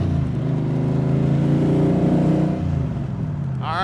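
A 1965 Shelby Cobra replica by Backdraft revs its engine, a loud deep rumbling roar that swells and holds, then eases off near the end.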